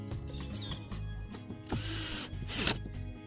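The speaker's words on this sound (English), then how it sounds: "we're gonna tighten all the screws back." A hand ratchet clicks in short bursts, tightening the air filter cover screws on a 2009–2018 Volkswagen, with quiet handling noises between, close and fairly soft.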